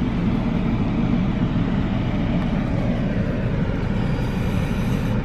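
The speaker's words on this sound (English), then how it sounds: "The train arrived early" A steady low rumble of a train rolling in, continuous and fairly loud throughout, with no voices.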